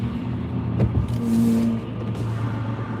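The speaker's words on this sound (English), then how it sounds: "But there's gonna be a nice BMW passing." A BMW car drives past on a cold street, a close, moderately loud engine and tire rush that swells briefly in the middle over steady traffic noise, with no talk.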